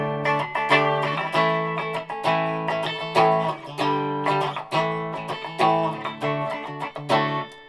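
A Balaguer Espada electric guitar on its single-coil bridge pickup, played clean through an Orange amp with reverb: a steady run of bright, plucked chords and notes with a clear rhythmic attack and ringing sustain, loud and close, no voices.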